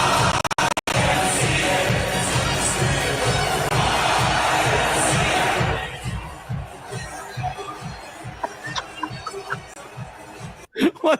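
An arena crowd at a wrestling event cheers and does the YMCA, a dense, loud roar of voices for about six seconds that then thins into scattered chatter, claps and shouts.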